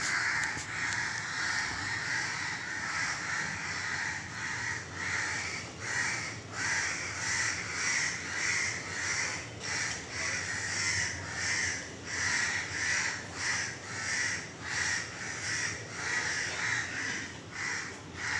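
A flock of crows caws constantly, many harsh calls overlapping in a dense, steady chorus at close to mid distance with no voices, a noisy morning bird gathering.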